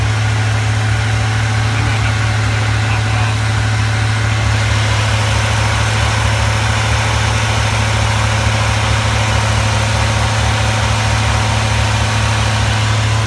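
A 1985 Chevrolet C10 pickup engine idles steadily just after a cold start, a loud, constant low rumble with an even mechanical drone that carries on unbroken throughout.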